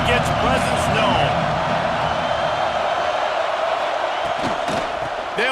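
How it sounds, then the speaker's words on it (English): A football stadium crowd at an Ohio State versus Northwestern game roars in a dense, continuous wash of noise, with a commentator talking over it. "This crowd ready to make its presence known."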